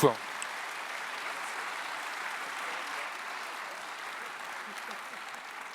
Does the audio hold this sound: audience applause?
yes